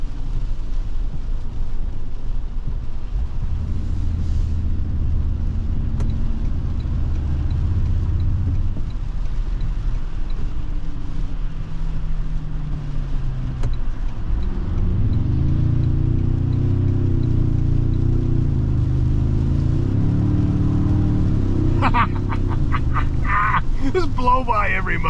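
A 2023 Toyota Tundra Capstone 4x4 drives on a highway, its low engine and road rumble droning steadily and swelling as it accelerates, heard from inside the cab.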